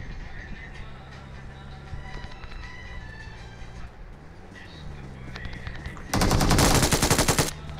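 Gunfire in the battle royale game BGMI: a loud, dense burst of rapid automatic shots near the end, after a stretch of quieter in-game background noise.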